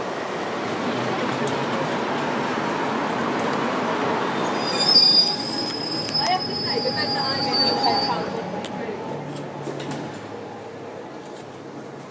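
Loud rumbling rail noise with a high, sustained metal wheel squeal in the middle, easing into a quieter hum as the train settles.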